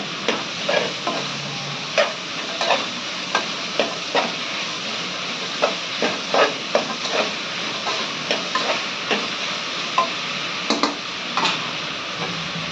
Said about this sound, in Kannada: ಹಂಗೆ ಅರ್ಶಿನ ಒಂದು ಚಮಚ ಹಾಕೋತೀನಿ ನೋಡಿ ಇವೆಲ್ಲ ಇವೆಲ್ಲಾನು ಚಂದ ಮಿಕ್ಸ್ ಮಾಡಬೇಕು